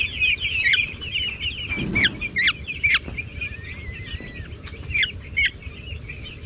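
Grown broiler chickens crowded together while being moved, clucking and squawking in repeated bursts close by, with some rustling and shuffling beneath the calls.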